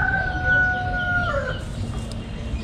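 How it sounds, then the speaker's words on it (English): Chickens in a coop in Damascus, Syria cluck, and a rooster gives a clear crow near the start. The birds sit at moderate distance over a noisy background. "Welcome to the chicken coop."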